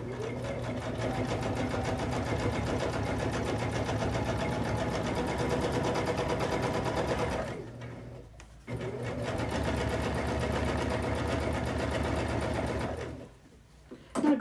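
A Baby Lock Jazz II sewing machine stitches a thread-art outline in two long steady runs of rapid mechanical whirring, close and loud, separated by a brief pause.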